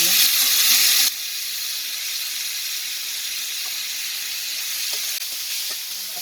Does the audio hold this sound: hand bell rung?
no